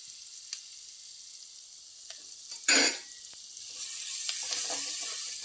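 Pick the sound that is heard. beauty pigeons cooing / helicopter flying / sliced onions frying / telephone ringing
sliced onions frying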